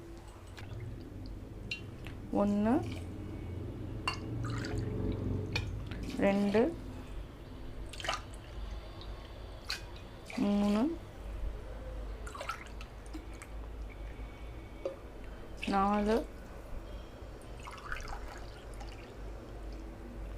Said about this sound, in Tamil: இப்போ நம்ம கரெக்டாக 5 டம்ளர்ஸ் மட்டும் தண்ணி விட்டுக்கலாம்.